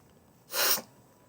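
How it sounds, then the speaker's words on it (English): A single quick, forceful sniff through a congested nose during a sinus infection, one short breathy burst in an otherwise quiet room. "Sorry, I'm sniffing"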